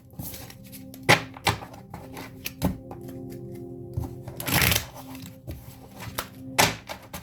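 A deck of tarot cards being shuffled by hand, a series of close, crisp riffling and snapping bursts with small taps and pauses between them.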